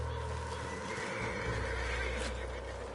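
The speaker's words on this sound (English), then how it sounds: "What's wrong with this horse?" A horse in the video game Red Dead Redemption 2 gives a long, loud whinny over steady game ambience and a low hum, with no speech.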